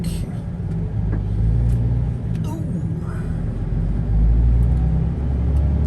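A delivery truck rolls slowly down a narrow cul-de-sac near Oban, its heavy engine rumbling steadily close by, with a few faint clicks and small surges of power along the way.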